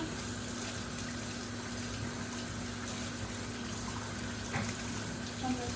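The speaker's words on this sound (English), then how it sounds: "Let me rinse my hands off." Hands rinsed under a running kitchen tap, a steady broadband rush of water continuing evenly throughout, with a low hum underneath and no talk.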